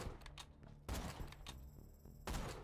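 The Gearbox Ahab gun in Borderlands 2 fires in three heavy, booming blasts spaced roughly a second apart, each followed by a short ringing tail.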